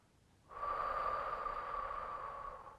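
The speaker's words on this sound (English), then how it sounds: "Exhale through the mouth." One long, steady breath is blown out through the mouth during a calf stretching routine. It starts abruptly, is close and fairly loud, and trails off slowly with no talking.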